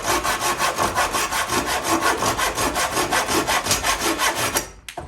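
A folding hand saw cuts through wood in steady, rhythmic back-and-forth strokes, loud and close, with no talking, before the sawing stops abruptly near the end.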